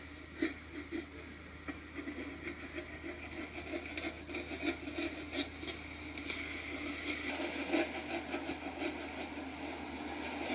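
Round knife paring leather on a bench during English saddle making, a soft scraping and rubbing in repeated strokes over a steady low background hum.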